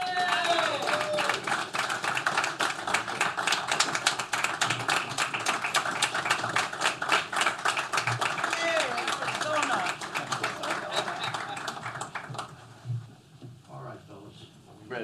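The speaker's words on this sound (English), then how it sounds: "So that deserves a round of applause." Audience applause and clapping welcome two senators, Bernie Moreno and Ruben Gallego, at a Q&A event: dense, sustained clapping across the hall that fades out near the end, with chatter beneath it.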